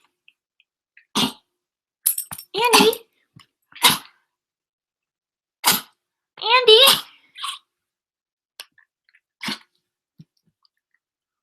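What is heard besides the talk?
coughing fit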